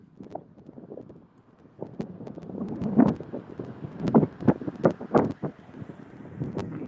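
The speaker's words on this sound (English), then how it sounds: "Or maybe the wind is just picked up." Outdoor wind gusting at a rural cemetery, a soft rumbling bluster that swells and fades with sharp buffeting pops against the microphone, no voice.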